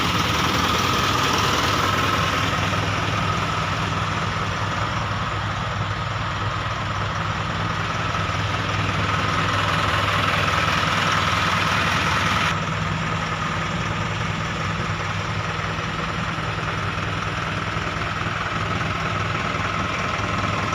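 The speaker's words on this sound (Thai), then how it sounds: "ตอนนี้ยังติดเครื่องอยู่ครับจะเสียงเงียบนะครับ" A car engine idling quietly at close range, a steady low rumble with a constant hum that runs unchanged throughout, with no talk over it.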